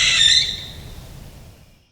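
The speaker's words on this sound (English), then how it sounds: "If you hear a scream in the night, it's a barn owl. If you hear rhythmic hoots that sound like a question, it's a barred owl." A barn owl gives one harsh, hissing scream that is loud at first and then fades into silence within about two seconds.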